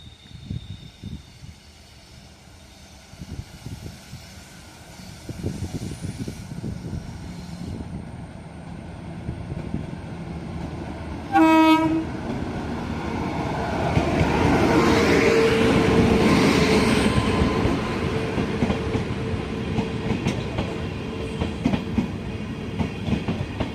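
The Guruvayur Express, a brand-new LHB train on a scenic hill route, rumbles along with a steady rolling roar and rhythmic wheel clatter that swells louder, with a brief horn-like tone partway through.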